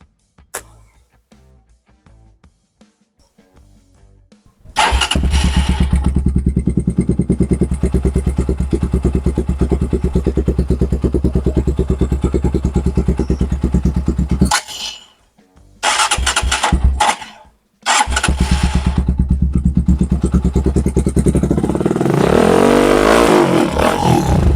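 A GPR250/Z200 motorcycle fitted with a resonator and an Akrapovic exhaust starts up and idles loudly and close, with a deep steady rumble. It cuts out twice, then restarts and runs on.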